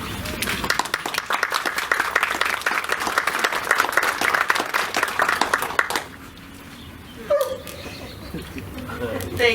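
Audience applause at a church animal-blessing service, dense and steady clapping for about six seconds that then stops, followed by quieter room sounds with a few brief voices.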